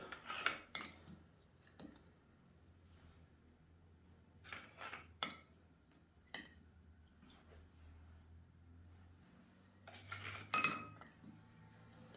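Light clinks and scrapes of a utensil stirring pudding in a pot or bowl, a few sharp taps scattered across a quiet stretch, with a low hum underneath.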